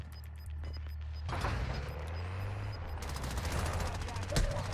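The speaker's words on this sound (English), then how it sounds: "I'm being sniped at!" Sniper gunfire in the Warzone 2.0 video game: sharp shots crack over a steady low rumble of battlefield noise, with one louder blast near the end.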